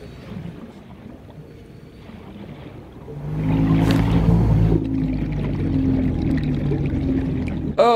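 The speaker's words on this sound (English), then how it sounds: "that's a big grumpy whaley sound" A whale-like creature in the underwater game Subnautica lets out a deep, swelling groan that rises suddenly out of quiet ambience and hangs on as a loud, low rumbling drone.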